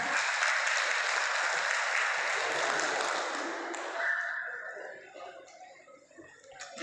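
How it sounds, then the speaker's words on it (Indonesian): Seminar audience applauding together in a hall, a dense steady clatter of clapping that holds for several seconds and then thins out and fades away. "Tepuk tangan."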